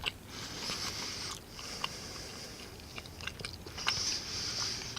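Close, steady chewing and biting of chicken curry from a Norwegian Arctic field ration, soft crunches and wet mouth sounds repeating through the clip with slight sniffs, no talk.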